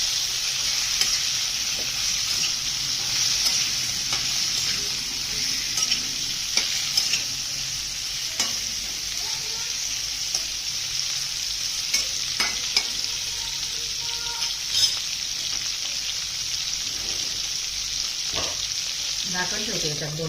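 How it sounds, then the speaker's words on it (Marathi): Bitter gourd (karela) with masala sizzles steadily in a pan while being stirred and sautéed, with occasional scraping clinks of a spoon close by. "2 मिनिटं चांगले परतून घ्यायचे आता"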